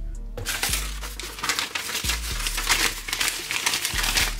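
Paper wrapping is pulled off a pair of headphones, giving close, loud crinkling and rustling that runs continuously with no talk.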